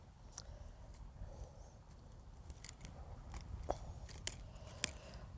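Pruning shears clipping dead growth off garden shrubs: a series of quiet, close, crisp snips at irregular intervals, with soft rustling of branches over a faint outdoor background; no talking.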